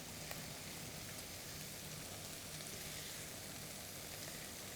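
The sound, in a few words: red wine reducing in pan while deglazing cooking residues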